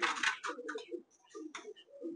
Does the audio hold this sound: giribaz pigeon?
yes